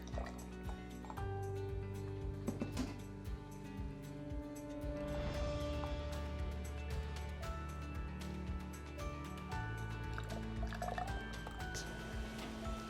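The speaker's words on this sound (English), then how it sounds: "So when we're filling up the jars, we're shooting for 1/4 inch headspace" Homemade pomegranate jelly fills canning jars with soft, gurgling pours and small drips, accompanied by quiet handling sounds and some faint background voices.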